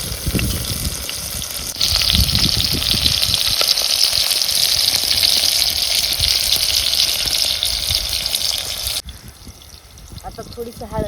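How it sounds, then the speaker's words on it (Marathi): Onions sautéing in oil, a steady loud sizzle with close stirring noises that continues for most of the time before dropping in level near the end, with someone talking over it. "परतून घ्यायचा आहे कांदा"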